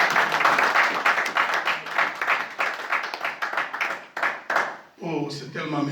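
A church congregation at a Sunday service applauding and acclaiming Jesus, a dense wash of clapping and cheering voices that fades out, after which a single voice begins speaking.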